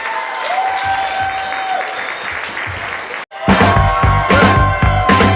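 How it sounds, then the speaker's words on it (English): Wedding guests applaud the bride and groom at Ceresville Mansion in Frederick, Maryland, a loud crowd of clapping hands that breaks briefly, then resumes over music and a voice. "Give the bride and groom, the happy couple, a round of applause."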